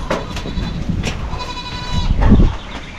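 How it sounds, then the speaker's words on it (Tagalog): Goats bleat in short bursts through a gusty typhoon (Pepito), the calls close by and overlapping with the rumble of strong wind and a louder surge near the end. "Pananakatin muna natin yung mga kambing."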